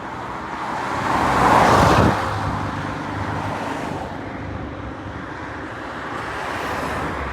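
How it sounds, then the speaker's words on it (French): A first-generation Dodge Challenger passes on a road, its engine swelling to a loud roar that peaks and then fades into steady traffic noise. "Les gars, Dodge Challenger première génération."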